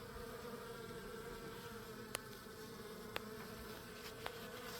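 Many young honeybees buzz around a hive in fall as they emerge for their first flights, a steady, dense droning hum close by, with a few sharp ticks of bees striking something nearby.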